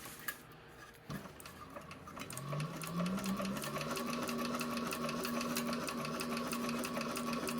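A sewing machine runs steadily, stitching along a seam allowance of fabric and turning a corner, its rapid mechanical ticking continuous and close with no talking.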